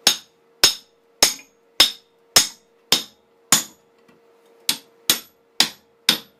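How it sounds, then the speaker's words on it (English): An axe head with a new handle is dropped repeatedly onto a concrete floor, giving about eleven sharp, ringing knocks at an even rhythm with a short gap partway through; close and clear, with no talk. "I'm just going to drop it on the concrete floor a couple times"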